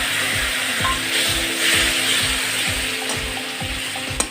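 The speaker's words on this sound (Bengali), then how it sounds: "আমি একটু মশলাটা একটু ভাজার জন্য একটু জল দিয়ে দেবো" Masala spices frying in hot oil in a pan just after a splash of water goes in for chicken momo filling, a loud close sizzle with rhythmic scraping strokes of stirring, no talking.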